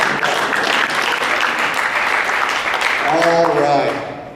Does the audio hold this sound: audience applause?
yes